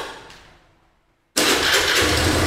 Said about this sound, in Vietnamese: Bây giờ cháu nổ máy lên cho chú